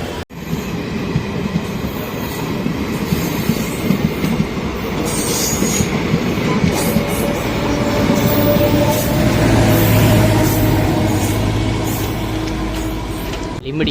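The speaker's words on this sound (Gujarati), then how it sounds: "તો વઢવાણ સિટીમાં એન્ટર થતી આપણી ટ્રેન." A DEMU passenger train runs steadily on rails between Limbdi and Wadhwan city in Gujarat, with a continuous loud rumble, wheel noise and faint rhythmic clatter building slightly toward the middle, heard from onboard.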